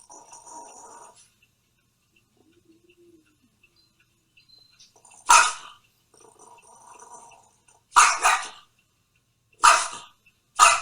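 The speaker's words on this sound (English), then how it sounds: "Oh, it's just two dogs." Two dogs bark outdoors, close and loud, in short sharp bursts separated by quiet gaps, and a fainter bark or whine is heard between them.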